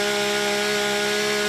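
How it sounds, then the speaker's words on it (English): A chainsaw runs continuously at full throttle while cutting brush and trees during fire department training, a loud, close, steady buzzing drone with no breaks. "getting extra practice with chainsaws cutting down brush and trees"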